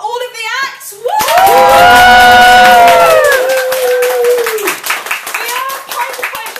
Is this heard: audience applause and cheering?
yes